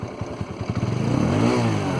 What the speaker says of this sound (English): Let's try to start the bike.